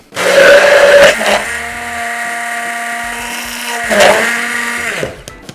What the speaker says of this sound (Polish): możemy to zrobić za pomocą blendera ręcznego